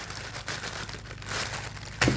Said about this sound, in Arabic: كمان بدنا نشكوكها، نشكوك الكيس.